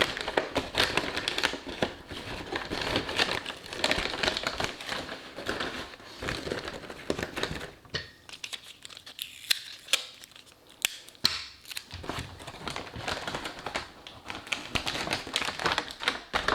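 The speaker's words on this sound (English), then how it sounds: "So you want to make sure that you tape it all the way shut." Paper is taped shut while a cheap spotlight is being made, giving a dense run of close tapping, crinkling and tearing sounds. The noise briefly thins to scattered light taps before the busy handling picks up again.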